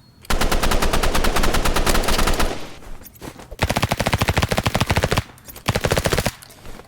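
Rapid automatic gunfire from the Roblox game Rivals, a dense burst of shots for over two seconds, then two more sustained bursts separated by short gaps, loud and close with no talking.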